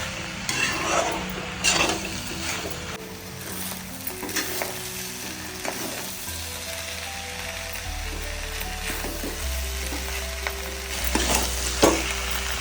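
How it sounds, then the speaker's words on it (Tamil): Food for Tamil sura puttu (shark) sizzles and fries in oil while a utensil scrapes and stirs the pan in irregular strokes, close up and without talk. "ஒரு 10 நிமிஷம் ஆயிலே வச்சு கிளறிக்கலாம்."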